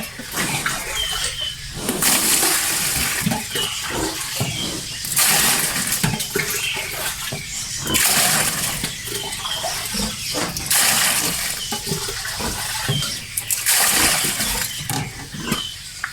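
Water splashes and rushes as it is poured out for pigs to drink on a countryside pig farm, coming in loud surging bursts with short lulls between them.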